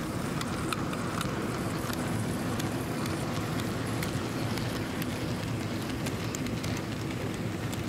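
A Hornby OO gauge Class 60 model diesel locomotive in DB Schenker livery runs at 40% controller power, giving a steady, continuous whirring rumble with faint rhythmic clicks from the track.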